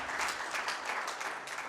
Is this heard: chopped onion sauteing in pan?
no